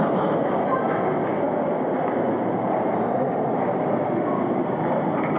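A train rumbles steadily, heard from on board or close by, with a constant low roar and a faint murmur of voices.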